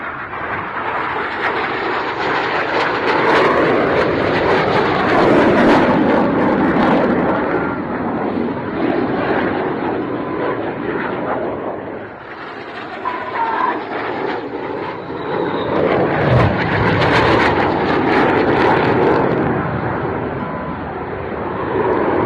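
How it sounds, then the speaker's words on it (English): A Red Arrows display jet trailing smoke at the RAF Waddington airshow roars past, its loud jet noise swelling, easing briefly, then building again in a second surge. "Coming in through the heart with his smoke on to draw the spear is Red 8, Flight Lieutenant Ben Plank."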